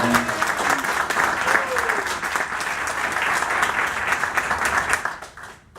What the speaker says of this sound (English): Give Anthony and Blake and Chris a big round of applause.